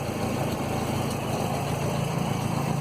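A 1967 Land Rover Series 2a 109 engine runs at a steady idle with the fan turning, its even, continuous rumble holding close and unchanging with no voices.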